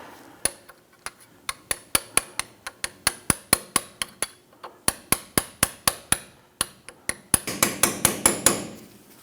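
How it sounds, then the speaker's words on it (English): A hammer drives a small punch to knock out cotter pins on a 1997-2006 Jeep Wrangler front steering knuckle. Dozens of sharp metallic taps ring out close by in a quick, uneven rhythm, with a brief pause midway. "use a small punch and go ahead and work those cotter pins"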